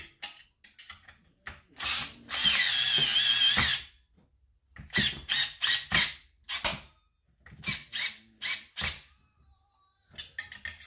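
A power tool cranks down bolts on a Stihl MS461 chainsaw during porting work, with short repeated bursts of whirring and ratcheting, one longer sustained run, and sharp pauses between, loud and close.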